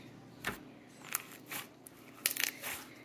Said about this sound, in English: That's the sound of good bubble pops